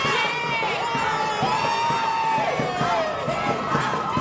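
People from Bilbao shouting together at the Kalayaan barrio fiesta in Madrid, a loud continuous mass of overlapping cries and cheers with rhythmic thumps underneath.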